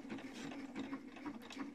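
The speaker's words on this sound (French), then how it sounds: "je pique à la fois mon ourlet et je vais le surfiler" A sewing machine with a wing needle sews a decorative stitch along a hem, a steady, fairly quiet mechanical whir with a regular rhythmic pulse throughout.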